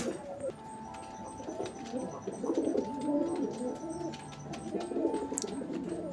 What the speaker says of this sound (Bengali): এটা হচ্ছে লাল পাত্তি কবুতরের একটা জোড়া